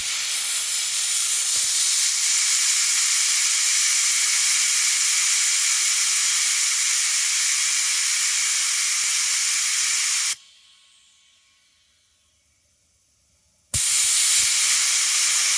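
Pressurized air blasts loudly and steadily from a disconnected bus air brake line, a harsh continuous hiss that cuts off abruptly for a few seconds and then bursts out again.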